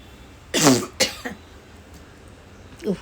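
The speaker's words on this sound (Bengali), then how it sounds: "খুব কাশি হয়েছে" Several harsh coughs from a cook partway through preparing idli and chutney in a home kitchen, one strong burst followed by two shorter ones, then a lighter cough after a pause, close and clear with no talk.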